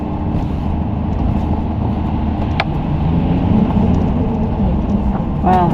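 Truck towing a trailer rumbles past on a muddy forest road, its low engine drone steady and fairly loud throughout, heard from inside a nearby vehicle.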